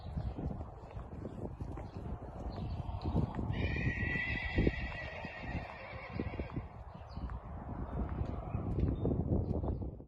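A horse ridden outdoors at home, with a continuous patter of hoofbeats under wind buffeting the microphone and a clear whinny partway through.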